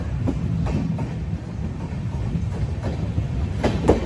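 The Netravati Express sleeper train running through a station without stopping, a loud, continuous rumble of wheels with rhythmic clickety-clack from the rail joints, heard from on board.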